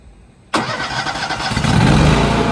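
A Wacker Neuson SM60 compact loader's fuel-injected engine cranks with an abrupt start, then catches and settles into a loud, close, steady idle that grows slightly louder and deeper.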